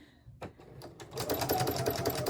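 A sewing machine stitches a back stitch on fabric for a bowl cosy, starting with a few separate clunks before settling into a fast, steady, close mechanical chatter.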